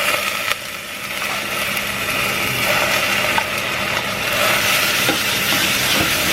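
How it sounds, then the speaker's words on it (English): Tomato paste sautés with vegetables in a hot pan, a steady close sizzle with some stirring scrapes and a low rumble underneath, no talking. "we're sauteing the tomato paste as well instead of just adding"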